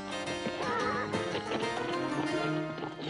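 A horse in the 1963 film Tom Jones neighs loudly in a long whinny, with hoofbeats clip-clopping underneath, close and clear for a few seconds.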